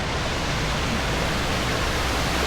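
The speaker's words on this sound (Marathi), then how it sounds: "तर असा हा पूर्ण वॉटरफॉल आपण यात रेकॉर्डिंग केलेलं आहे" Roaring, steady wash of falling water from a monsoon waterfall at Malshej Ghat in the Sahyadri mountains, a loud, unbroken broadband rush close by with no voices.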